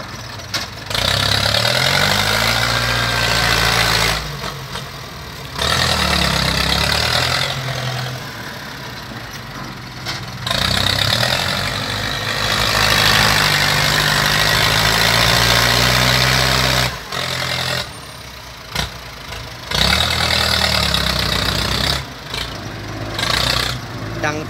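A Ford New Holland 5000 single-axle tractor, a 1968 model, idles with a steady low rumble and throb. Voices talk over the engine at intervals, and the engine sound drops back in short gaps.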